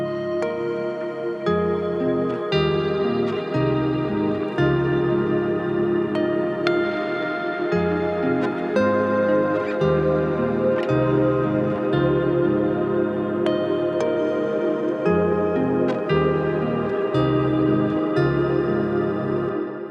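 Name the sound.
guitar chorus with stereo ping pong delay and octave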